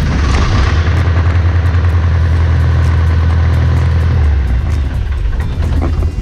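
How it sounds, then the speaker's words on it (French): A heavy old Someca tractor engine, started after sitting unused for some time, rumbles loudly and steadily at idle, a deep continuous throb close by that eases slightly toward the end. "je vais pouvoir essayer de démarrer mon tracteur"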